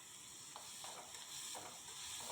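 Onions, green chilli and curry leaves sautéing in a pan for a South Indian egg gravy, a steady close sizzle with soft stirring scrapes and no talking.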